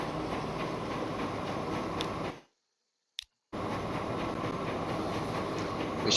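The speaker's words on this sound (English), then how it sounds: "Incoming train is going to the passenger station. No. Okay, it's moving." A train rolls along the track in the Transport Fever 2 game, a steady rumbling clatter with no talk. It cuts out to silence for about a second midway, then carries on.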